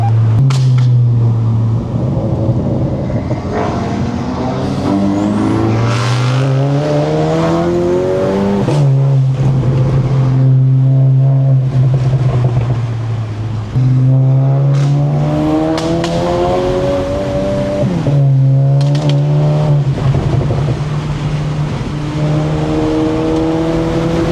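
A tuned 450 WHP Volkswagen GLI accelerates hard, with a loud close engine climbing through repeated revving pulls between gear shifts, plus whooshing intake and turbo sounds over about twenty seconds.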